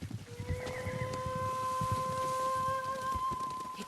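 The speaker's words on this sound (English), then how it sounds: "Horses, they're coming for us." Horses heard in the Ghost of Tsushima video game, a faint neigh and soft hoof movement under a steady background drone with sustained tonal music lines.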